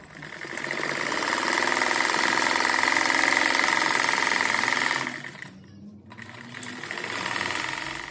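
A sewing machine stitches fabric scraps for a patchwork bow-pattern rug, running in a steady loud whir for about five seconds, stopping briefly, then starting again more quietly.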